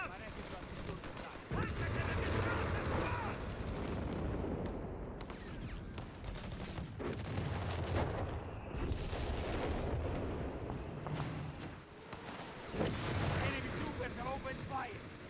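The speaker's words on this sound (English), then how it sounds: "Shooting at us!" Company of Heroes 4v4 multiplayer battle with Wehrmacht forces near a coast, dense bursts of gunfire and booming artillery thuds rolling on and off, with voices shouting over the combat.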